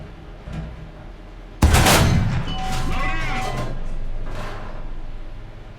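A tank cannon fires once in the War Thunder video game, a loud sudden blast with a metallic ring that fades into a long rumbling tail, with no talk.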